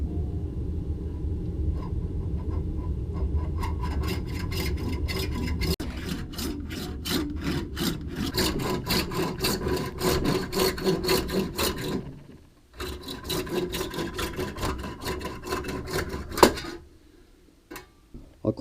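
Steady metal rasping as a sharp corner on a tractor snowblower part is filed clean, in continuous close scraping strokes. There is a brief pause partway through before the filing resumes, then it ends with a few knocks.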